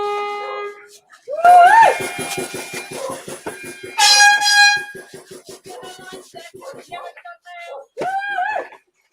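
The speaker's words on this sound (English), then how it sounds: "and then somebody lets off an air horn" A loud, harsh horn blast cuts through a noisy crowd with clapping and chatter, sounding several times in bursts amid the din.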